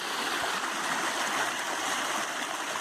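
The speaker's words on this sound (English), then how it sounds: "there's a lot of flow coming out of that pond." A strong stream of water pours out of a pond beside a hiking trail, a steady, dense rushing flow that stays loud and even throughout with no voices over it.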